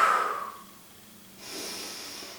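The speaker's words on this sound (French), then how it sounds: "Expirez à fond vers vos doigts, la nuque s'allonge." A single forceful breath pushed out at the start of a plank exercise, close and brief, fading into quiet room noise.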